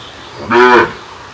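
A dairy cow gives a single loud, close moo lasting under half a second, a harmonic lowing against a quiet background.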